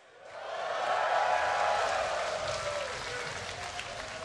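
Crowd cheering and applauding at a live esports match, TSM vs. Curse at NA Regionals, a broad roar swelling quickly then holding steady and slowly easing, loud and continuous with no clear talk over it.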